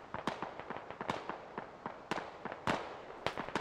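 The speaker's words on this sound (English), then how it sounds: "And they're firing back pretty heavy now." Heavy gunfire in the military shooter game Squad: rapid irregular cracks and bursts of shots, some louder and nearer, others distant, continuing without a break and with no voices.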